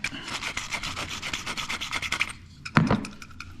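Sandpaper rubbed by hand over a shower valve part during a rebuild, a quick run of rhythmic rasping strokes, close and fairly loud, followed by a pause and one harsh scrape.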